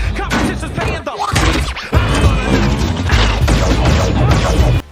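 A robot from a Transformers film is blown to pieces in a loud, dense crash of smashing metal and debris that runs almost unbroken, with a brief dip before the din surges on again.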